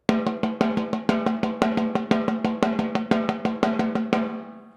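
Crisp snare drum playing steady accented triplet strokes with no roll, a fast even run of sharp, close hits with stronger accents, stopping cleanly and ringing briefly.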